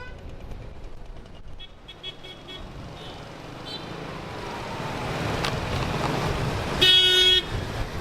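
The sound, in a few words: car horns honking in traffic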